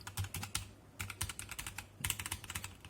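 Key presses on a METOO Z56 mechanical keyboard with brown switches: rapid clusters of crisp, close clicks and clacks in uneven bursts, quiet overall with no talking.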